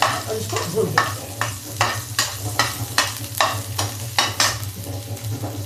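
Vegetables with cumin, garlic and curry leaves fry over high heat in a pan. A close, rhythmic series of spatula strokes, roughly two per second, sits over a continuous sizzle and a low stove hum, with no speech.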